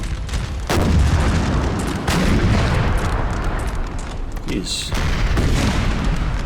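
Heavy artillery fire pounds England's coast in Napoleon: Total War, a dense run of loud booms and rumbling blasts that carry on through the whole stretch, with a brief spoken exclamation cutting in partway.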